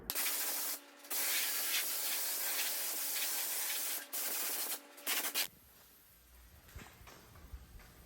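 A spray gun lays clear coat onto a pickup truck bed during a budget DIY restoration, a loud, close, steady hiss in long bursts with brief pauses between passes, then stopping to leave faint room noise.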